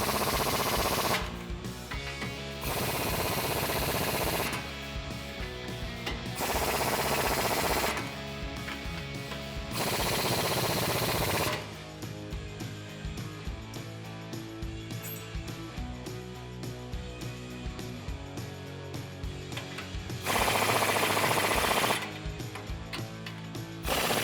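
Bolts on a 2004-2019 Ford F150 front lift kit are driven home with a power tool and a 22mm deep socket. Loud, close bursts of rapid rattling hammering repeat several times with short pauses between them, and then a longer run follows.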